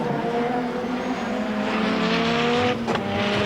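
A touring car at the 1990 British Touring Car Championship at Donington Park accelerates out of the pit lane after a stop, its engine howling with rising pitch over a constant trackside roar.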